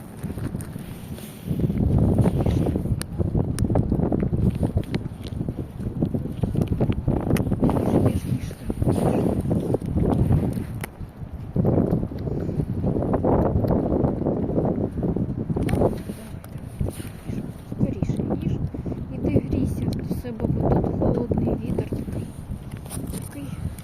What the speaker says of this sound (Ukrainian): поганий вітер.